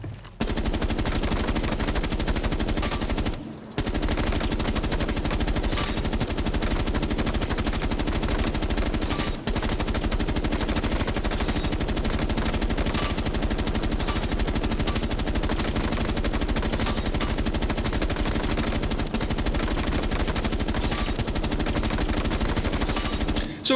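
Rapid automatic gunfire from a console shooter game set to headshot-only mode, sounding in loud, sustained bursts almost continuously, with only a couple of brief gaps.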